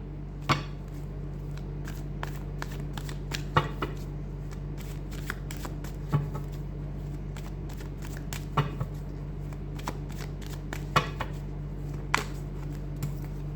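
Tarot cards shuffled by hand at close range, a run of quick papery riffles and taps recurring irregularly over a steady low hum, with no talking.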